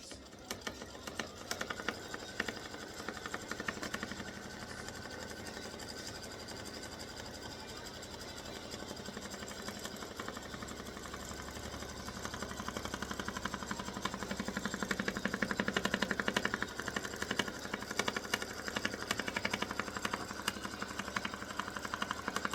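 An embroidery machine runs steadily, stitching down quilt batting on an in-the-hoop Halloween pumpkin banner, a continuous close mechanical whir with rapid needle clatter that grows slightly louder toward the end.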